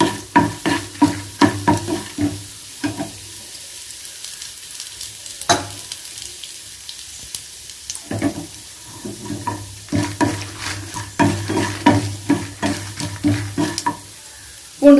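Chana dal frying in a pan for pirandai (veld grape) chutney, a steady close sizzle broken by frequent rhythmic scraping and stirring strokes of a spoon, with no voices.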